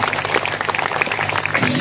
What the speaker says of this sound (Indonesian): Tepuk tangan buat semua.